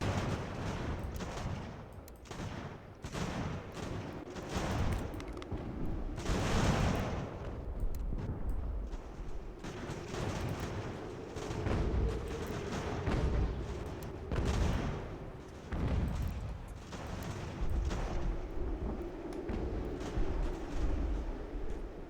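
Enemy musket and cannon fire in Ultimate General American Revolution during a British invasion near New York: dense, continuous volleys of crackling shots and booming blasts that rise and fall in waves throughout, with no talk.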